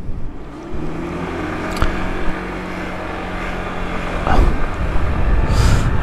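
A Peugeot Tweet 125 GT scooter being ridden, its small engine droning steadily and rising in pitch as it pulls away, with wind noise building and a couple of brief passing sounds.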